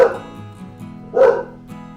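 A dog barks twice, close and loud, the two sharp barks about a second apart with a faint whimpering tone between them.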